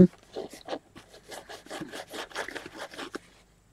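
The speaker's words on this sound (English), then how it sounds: "just keep rubbing it up and down it's going to come off" Dried masking fluid is rubbed off paper in quick, scratchy back-and-forth strokes, a close, soft rhythmic scuffing repeated about a dozen times.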